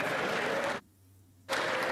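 Members of parliament in the Canadian House of Commons clap during a non-confidence vote. Dense applause breaks off briefly into near-quiet, then resumes just as full.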